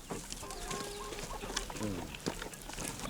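Farm chickens cluck and chatter steadily against a noisy outdoor background, with a few sharper calls standing out.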